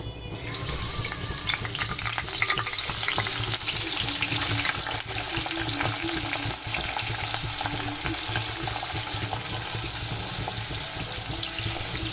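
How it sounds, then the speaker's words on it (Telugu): Salted dried fish frying in hot oil in a kadai, a dense continuous sizzle and crackle with a brief stirring clatter, steady and close throughout. "ఆయిల్ హీట్ అయ్యాక చూడండి ఉప్పు చేపలు వేస్తున్నాను"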